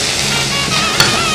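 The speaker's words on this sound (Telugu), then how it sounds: "ఇది బాగా ఫ్రై చేసుకోవాలి." Ingredients for Tamil Nadu style Muslim chicken biryani frying in a pan, a steady, close sizzle with a soft stirring scrape partway through.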